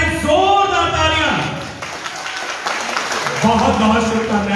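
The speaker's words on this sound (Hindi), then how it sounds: "सभी की तरफ से एक बार सबसे पहले जोरदार तालियां।" Guests at an engagement ceremony break into loud applause, a crowd clapping under a host's voice that keeps talking over it throughout.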